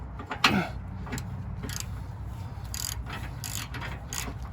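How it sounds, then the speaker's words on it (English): A hand ratchet loosens the nut on a lower control arm bolt of a 2007-2012 Nissan Altima, giving close, bursty clicking bursts in several short runs over a low steady hum. "Now we'll come in here the rest of the way with the ratchet."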